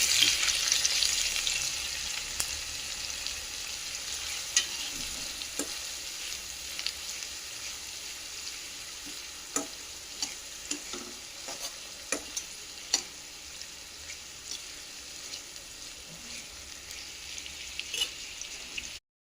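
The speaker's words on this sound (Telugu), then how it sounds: "ఆనియన్ పచ్చిమిర్చి వేసుకోవాలి వీటిని కొంచెం కలర్ చేంజ్ అయ్యే వరకు ఫ్రై చేసుకోవాలి" Onion and green chili fry in hot oil with a steady sizzle, punctuated by scattered sharp clicks and scrapes of stirring; close, with no talking.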